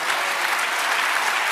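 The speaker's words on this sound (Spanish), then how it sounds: "Dale un aplauso al Señor." Congregation applauding at a church service, a steady dense wash of clapping that holds loud and even for the whole moment.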